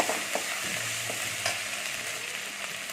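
Ground ginger paste fries in a pan for an okra pachadi, a steady close sizzle with occasional stirring scrapes and no talking.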